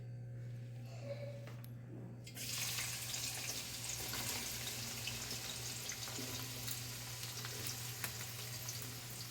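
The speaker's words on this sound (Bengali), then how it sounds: "প্রথমে আমি পেঁয়াজটা ভেজে নিচ্ছি" Onions fry in a pan for a chicken curry, a quiet steady sizzle that swells after a brief softer opening and continues evenly under a low constant hum, with no talk.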